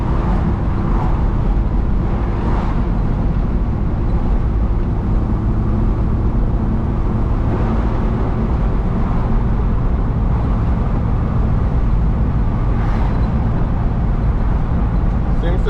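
A Jeep TJ Sahara 4x4 drives along a road with a steady low engine drone and road rumble from inside the cabin, while someone talks over it throughout.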